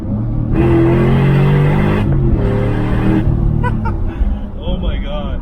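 A 2000 Ford Mustang Cobra R with a 6-speed manual pulls hard from 40 to 80 mph, its loud engine roar climbing and breaking at quick gear shifts. Voices murmur briefly near the end.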